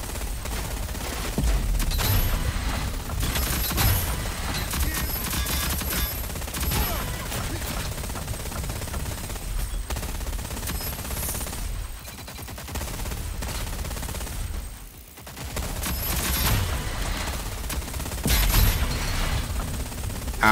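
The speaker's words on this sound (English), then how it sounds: "Was not expecting a minigun." A minigun in the Rogue Company video game fires long, continuous bursts of rapid gunfire, loud and close, briefly dropping out mid-stretch before the dense shredding resumes, with occasional faint voices.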